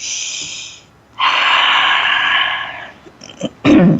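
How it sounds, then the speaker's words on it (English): A deep breath during a guided meditation session: a close, audible inhale followed by a longer, steady exhale and a final breathy release. "Another deep breath."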